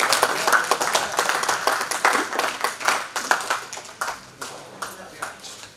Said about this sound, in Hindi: तालियां बजाइए बच्चों।